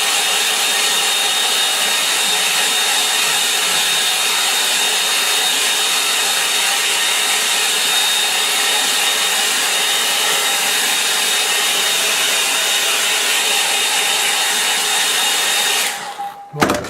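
A hair dryer blows steadily to dry a black watercolour tone study of a Dartmoor scene, a loud, continuous whooshing drone that runs unbroken for about sixteen seconds before cutting off abruptly.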